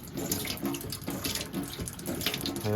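Water runs steadily from a tap through a carbon filter aboard a yacht, a close, continuous splashing gush into a sink with no one talking.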